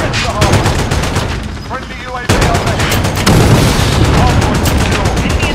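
Video game gunfire, loud and close: dense rapid automatic bursts with quick repeating cracks, briefly easing before sharp renewed firing that keeps going to the end.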